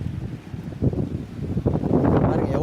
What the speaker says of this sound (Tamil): பாருங்கள் எவ்வளோ காற்றடிக்கும்.